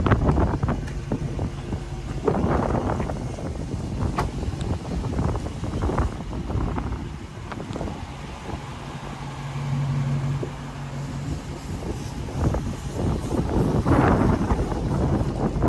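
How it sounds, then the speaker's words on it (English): Strong wind buffets the microphone in loud, continuous gusts, with a low rumble running steadily underneath. "It is windy, goodness."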